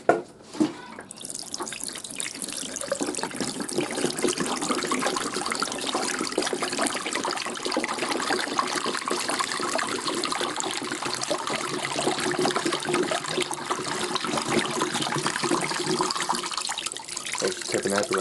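Water splashes and pours steadily as the water container of a Beko DSX83410W tumble dryer is emptied and spills over, a continuous loud trickling gush.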